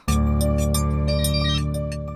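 An incoming call sets a phone ringing, a steady loud electronic tone with a rapid pulsing pattern that sounds alone for about two seconds.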